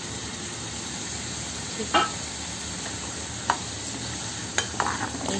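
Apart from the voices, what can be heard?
tomato puree added to pan and sizzling while stirred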